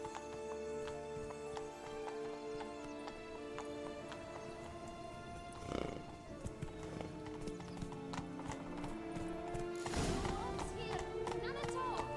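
Roach the horse gallops through The Witcher 3 with steady rhythmic clip-clop hoofbeats, close and clear over a musical score, with a whinny or two and a voice briefly speaking.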